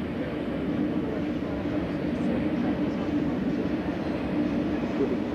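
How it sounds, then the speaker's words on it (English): Steady, continuous rumble of a train in motion, heard from inside a passenger compartment during a long journey in Vietnam, with no distinct clacks. "We're now on our very long train journey"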